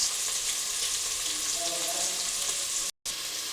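Peas go into frying masala for palau, a steady, close sizzle of oil and spices that runs with a brief cut near the end, and no voices.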